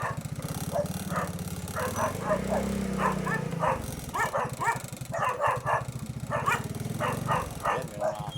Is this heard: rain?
no